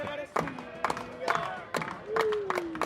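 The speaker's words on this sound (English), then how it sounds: "Starting a slow clap." A single fan's slow clap at a college baseball game, sharp claps spaced roughly half a second apart, close and distinct over faint crowd noise, with a voice talking over it.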